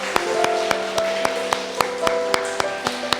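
Church congregation clapping in a steady, evenly spaced rhythm to welcome a member during an anniversary thanksgiving service, with sustained keyboard or organ tones held underneath throughout.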